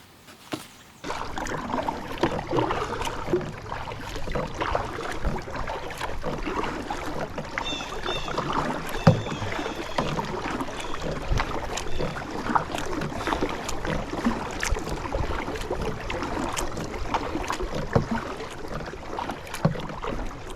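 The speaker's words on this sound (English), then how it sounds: "so I'm kayaking all the way down" Kayak paddling across a pond in Maine, with a steady wash of water and broadband rustle that holds throughout after a quiet first second, plus scattered soft splashes and knocks, close to the microphone with no talking.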